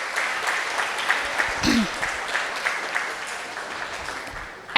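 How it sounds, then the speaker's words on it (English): Audience applause at a community diversity celebration program, a steady broadband patter of many hands clapping through the whole stretch, moderately loud, with a brief voice or bump partway through and a sharp burst at the end. "Let's give everyone a well-deserved round of applause."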